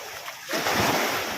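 Sea waves at a shoreline where fishermen work a net, starting as a quieter wash then swelling into a loud, broad surging roar of breaking surf with wind buffeting.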